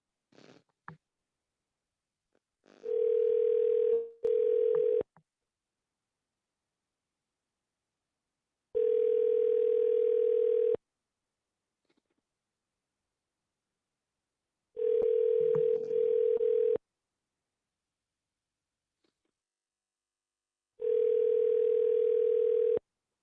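A telephone ringback tone repeats on an outgoing call, four long steady beeps separated by even silences, clear and alone.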